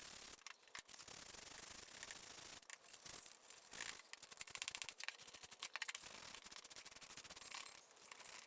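Hand sanding of an end grain cutting board with a brick-ish pattern, a close, steady scratchy rasp of sandpaper on wood with rhythmic strokes and brief gaps, no voices.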